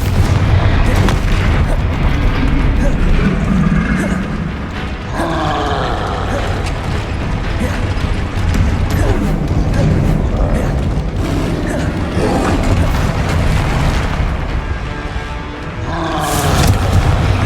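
Bombarda explosion spells go off in the video game Hogwarts Legacy, loud booming blasts and rumbling roars layered over a dense, continuous game soundscape with repeated heavy impacts.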